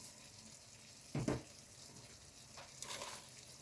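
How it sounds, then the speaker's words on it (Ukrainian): Caraway and spices fry in a pan for a lentil-free pearl barley and sauerkraut dish, with a quiet low sizzle and a couple of brief louder bursts of stirring or sizzling. "При смажці дуже гарно розкриваються всі спеції, тому раджу смажити кмин"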